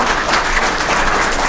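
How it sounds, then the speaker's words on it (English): Audience applause at a police department annual awards ceremony, a brief, steady burst of many hands clapping in a large room, with no talk over it. "Let's give them a round of applause."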